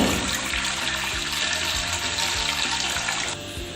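One and a half glasses of water pour steadily into a pressure cooker for kaleji masala, a loud, continuous close-up gushing stream that eases slightly near the end.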